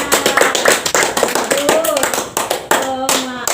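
Classroom hand clapping in a teaching practice lesson, a series of sharp claps in loose rhythm mixed with children's voices talking and chanting over them, close and fairly loud.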